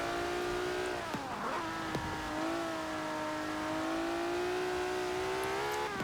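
A built-up JDM car with changed cams revs hard in Forza Horizon 4, its engine note holding a steady high drone that climbs slightly through sideways driving, with brief tire chirps near the start.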